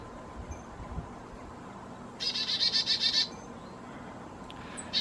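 Birds in the woods: a rapid, bright trill bursts out for about a second over a soft background hiss, followed later by a faint brief chirp.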